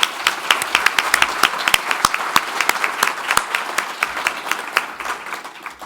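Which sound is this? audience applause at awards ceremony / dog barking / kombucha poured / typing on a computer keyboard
audience applause at awards ceremony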